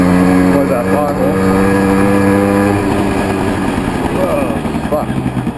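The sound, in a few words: 50cc moped engine revving in second gear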